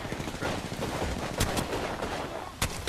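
A Mastiff shotgun fires in Apex Legends amid dense gunfire, with a couple of sharp, loud blasts standing out over continuous combat noise.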